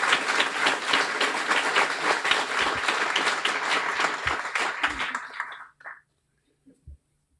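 An audience at a guide dog graduation ceremony applauds warmly for visiting club guests, steady clapping that fades out after about five seconds, leaving a few scattered claps and faint room sounds.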